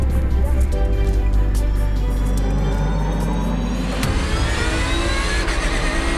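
Race car engines at the Paul Ricard circuit starting grid, a dense sustained drone of several idling and revving engines with a sharp change partway through as one pulls away, loud and near.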